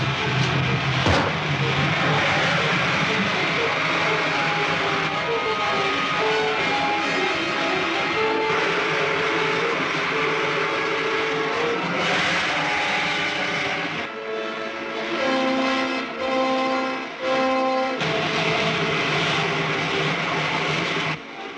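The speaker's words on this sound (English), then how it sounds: "Fire pilot jets. Fire main jets." A rocket ship's jets fire in a 1952 serial sound effect, a loud, sustained roaring rumble with shifting whining tones that holds for about twenty seconds without voices.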